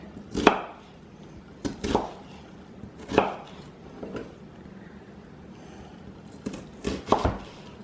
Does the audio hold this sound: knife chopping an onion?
yes